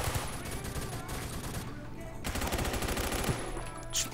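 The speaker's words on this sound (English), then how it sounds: "There's a guy with a pistol shooting at me over here." Rapid automatic gunfire in the video game Phantom Forces, firing in dense bursts almost continuously with only a brief lull in the middle, loud and close.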